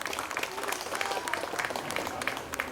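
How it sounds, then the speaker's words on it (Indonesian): A crowd applauds the neighbourhood RT heads at an Anggrek Mas Village community celebration. Steady, dense clapping runs throughout, fairly close and even in loudness. "Kita beri aplaus untuk Bapak-Bapak RT kita."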